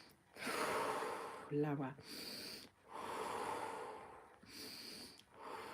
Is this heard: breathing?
yes